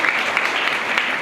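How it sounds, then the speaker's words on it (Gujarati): Steady, dense applause from a school audience at a Republic Day cultural celebration, loud and close, sustained clapping without pause throughout. "સ્તુતિબેન સોનાણીને પણ આપણે એક વખત જોરદાર તાળીઓથી વધાવી લઈએ"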